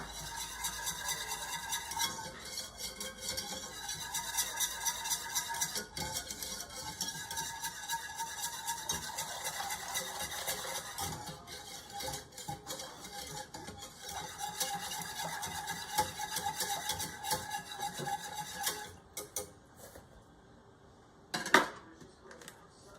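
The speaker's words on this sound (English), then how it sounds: "I'm gonna add the milk slowly while whisking. That way you don't get lumps." A whisk scrapes and stirs briskly in a pot as milk goes in for homemade mac and cheese. The metallic swishing runs continuously and close for about twenty seconds, then settles into a few knocks against the pot.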